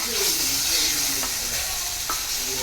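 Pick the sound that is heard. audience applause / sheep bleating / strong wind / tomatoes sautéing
tomatoes sautéing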